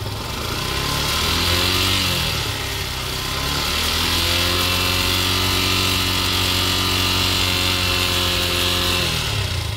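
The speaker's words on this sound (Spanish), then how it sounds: "Voy a verificar a 5000 revoluciones, voy a empezar a acelerar." A Yamaha FZ-S 2.0 motorcycle engine revving to about 5000 rpm: a steady idle climbs to a loud, sustained high-rev drone, then falls away near the end, close and alone.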